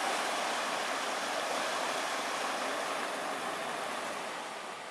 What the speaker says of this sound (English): The water begins to rush out.